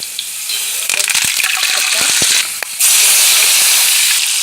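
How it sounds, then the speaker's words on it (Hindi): Whole round dried red chillies dropped into hot ghee for dal tadka, loud hissing sizzle with crackling pops, swelling sharply partway through as the frying intensifies. "घी गरम हो गया बिल्कुल। अब इसमें गोल सूरज साबुत मिर्च डाल दी"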